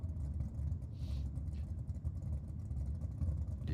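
A BMW drift car rolls slowly up to a start line at a drift club meet, its engine a low, steady, grumbling rumble heard from close by with no voices.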